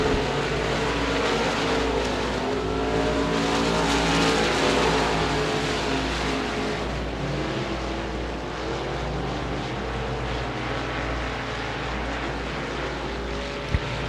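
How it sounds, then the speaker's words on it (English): Modified race cars roar around a dirt track at Devils Bowl Speedway on the final lap, a dense, continuous engine drone with shifting pitch as the field passes, loud and unbroken with no talk. "White flag, 1 lap to go for Pepper Kirkendall on the 33 car"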